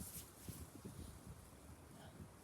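Steady low rumbling buffet of strong wind hitting a microphone outdoors at an abandoned settlement site while metal detecting, continuous and loud throughout, with no clear voice on top.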